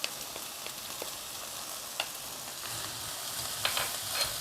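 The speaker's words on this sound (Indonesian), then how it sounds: "Kita aduk-aduk sebentar supaya bumbu-bumbunya rata." Blood clams stir-fried with broth, salt, palm sugar and sweet soy sauce, sizzling steadily in a hot pan while a utensil scrapes and clicks through them at irregular moments, close and continuous.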